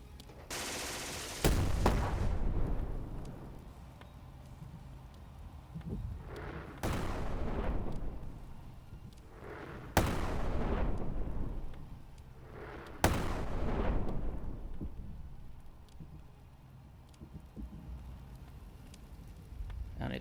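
Mortar fire and heavy explosions in a tank combat video game set with the 8th Armoured Brigade, several loud booming blasts at intervals of a few seconds, each with a long rumbling decay over continuous battle noise.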